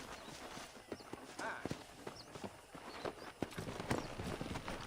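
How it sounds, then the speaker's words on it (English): In the Western video game Red Dead Redemption, a pack of wild horses gallops with a steady stream of clip-clopping hooves on dirt and an occasional whinny, moderately distant, under background game sounds. "there's a pack of wild horses nearby"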